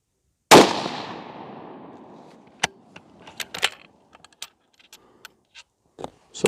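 A suppressed Remington 700 .223 rifle fires a single loud, sharp shot at a range, its report decaying over about two seconds, followed by scattered faint clicks and handling noises.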